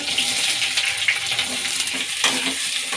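Onion frying in hot oil with chana dal, urad dal, mustard seeds and curry leaves for spicy chitranna, a steady close sizzle and crackle with faint stirring clinks, no talk.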